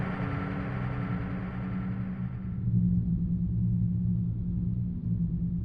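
Dark, droning dungeon ambience from the Ocarina of Time game, a steady low rumble of sustained bass tones with a hazy upper layer that thins out midway, leaving a heavy, continuous murmur throughout.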